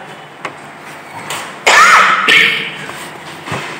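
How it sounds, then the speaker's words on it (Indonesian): A single harsh cough bursts out mid-clip, loud and close, followed by a quieter second burst, with faint background noise around it. "Saya batuk karena emang dari semalam sebenarnya udah down."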